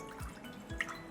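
Water drips and splashes into a pan for sugar syrup in a home kitchen, a couple of brief liquid plops close by with no talk.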